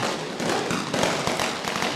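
Firecrackers bursting to open a semi-final cricket match, a dense, continuous crackle of rapid pops that stays loud and steady throughout.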